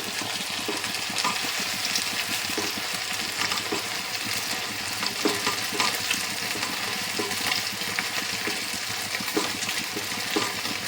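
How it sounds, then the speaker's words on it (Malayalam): Kerala-style chips frying in hot oil over a full flame, a dense steady sizzle with scraping stir strokes throughout, close and fairly loud with no talk. "എണ്ണയിൽ മുക്കി പൊരിച്ചിന സാധനമൊക്കെ ഫുൾ തീയിലിട്ട് വറുത്ത് കോരണം"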